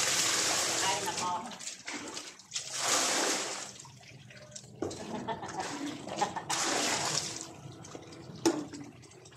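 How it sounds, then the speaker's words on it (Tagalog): Water pours and splashes into a basin for washing laundry at home, in uneven gushing bursts with someone talking over and between them. "Lagyan natin dito ng tubig."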